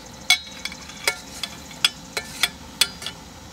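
Chicken thighs coated in Sheely's vinegar and pepper sauce sizzle on a hot griddle, with a steady low fry and a string of sharp, close clicks and taps from a utensil working the meat.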